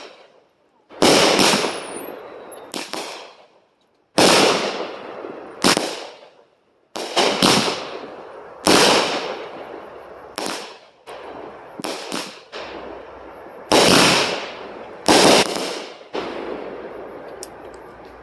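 Fireworks and firecrackers lit before the Fourth of July: a series of about a dozen sharp, loud bursts and crackling pops at irregular intervals, some in quick pairs, with brief quiet gaps between.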